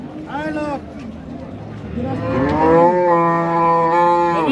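Loud, close cow moos from a Friesian cow at a cattle market, a short low call followed by a longer drawn-out bellow, with faint background chatter.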